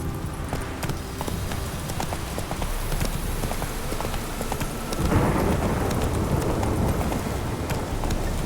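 Hooves clip-clop in a fast, steady rhythm as a horse gallops through The Witcher 3, with rain and low thunder rumbling throughout the stormy background.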